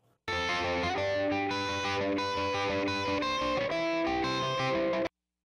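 Distorted electric guitar played through a Marshall JCM 800 and an Engl Fireball amp at once, thick sustained chords ringing loud and continuous for about five seconds before stopping abruptly.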